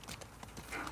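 A horse's hooves clop in The Last of Us Part II, a quick series of faint, rhythmic hoof strikes close by, with a brief whinny-like sound near the end.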